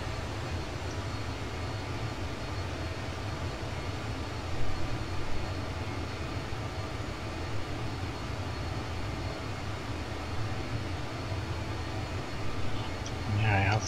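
Inside a BAE 146-300 airliner in the Just Flight simulator, the four-engine drone runs as a steady, even hum for the whole stretch, with only small bumps in level.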